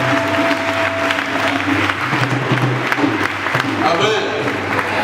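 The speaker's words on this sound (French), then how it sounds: "Est-ce qu'on peut acclamer la jeunesse?" A church congregation applauds the youth with loud, steady clapping that rolls on without pause, mixed with cheers and a voice speaking over it.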